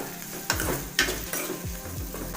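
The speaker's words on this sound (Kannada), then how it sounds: "ಈರುಳ್ಳಿನ ಚೆನ್ನಾಗಿ ಫ್ರೈ ಮಾಡ್ಕೊಳ್ಳೋಣ." Chopped onions and green chillies fry in a pan for tomato huli saaru, a steady close sizzle broken by a few scraping stirs of a spatula, with no voices.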